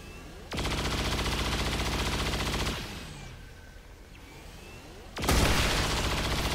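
In the video game XCOM 2: War of the Chosen, a double shot fires as two loud, dense bursts of rapid gunfire, the first sustained for about two seconds, the second starting abruptly after a quieter pause.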